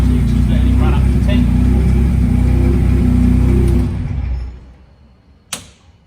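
A Ford Fiesta Cosworth engine runs at a steady loud idle with a deep low drone, then cuts off and winds down to near silence, followed by a single sharp click.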